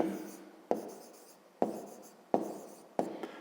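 A pen writing by hand on paper in a maths lesson, giving four close, crisp scratching strokes, each starting with a sharp attack and fading before the next.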